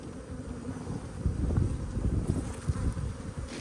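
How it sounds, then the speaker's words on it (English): Honey bees swarm around a disturbed, decade-old colony during a removal, producing a dense, continuous buzz with some wind rumble on the microphone and no talking. "there seems to be a hell of a lot of bees turning up"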